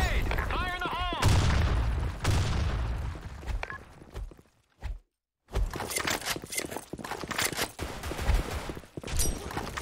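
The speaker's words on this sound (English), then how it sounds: "Grenade! Fire in the hole!" In the online shooter Blackshot, a grenade goes off and bursts of gunfire crack up close, with several sharp shots and a short silent gap before the rapid firing resumes. Voices shout over the combat.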